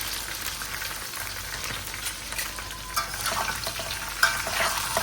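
Onion, green chili, beans, cauliflower, potato and tomato frying in a wide wok, a constant crackling sizzle with soft stirring scrapes that grow slightly louder toward the end, close up and without speech.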